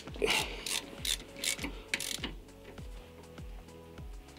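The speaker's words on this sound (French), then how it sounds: "on fait une approche au cliquet" A ratchet tightens the wheel bolts on a Renault Clio 3 during a brake disc and pad job, giving about ten crisp, evenly spaced click strokes close up with no talking.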